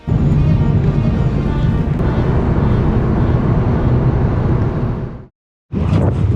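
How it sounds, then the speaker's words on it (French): Strong wind on the Costa Brava buffets the microphone in a loud, continuous roar for about five seconds, drops out briefly, then resumes. "Il y a du vent de salopard."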